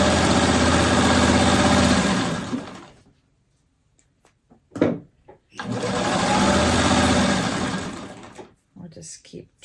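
A domestic sewing machine stitches fabric for a freeform appliqué alphabet letter in two long, steady runs of a few seconds each, loud and close, separated by a pause with brief clicks and handling noises.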